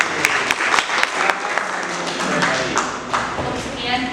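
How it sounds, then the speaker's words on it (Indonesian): A classroom group claps for a presenting team, with close, uneven hand claps and taps over a noisy room murmur, loud and fairly steady for a few seconds. "tepuk tangan untuk kelompok"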